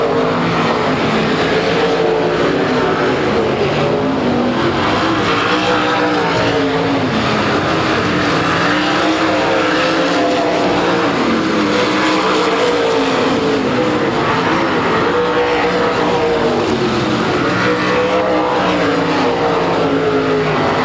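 Race cars roar around the oval track at Beaver Dam, with a loud, continuous drone of engines and a rising and falling whine as cars keep passing one after another.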